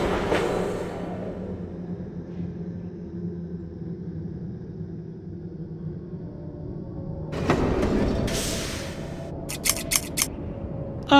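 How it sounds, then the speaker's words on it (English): A pair of scissors snips in a Thomas game: several sharp, bright metallic snips in a quick cluster near the end, following a muffled rumble and a louder rattling burst, all close and playing with no talk. "It's only a pair of scissors."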